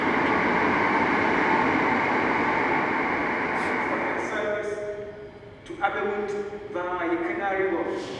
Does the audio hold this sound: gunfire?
no